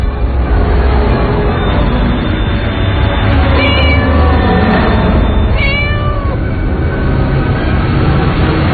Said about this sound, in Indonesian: Kucing berwarna putih itu melihatku terus sambil terus mengeong.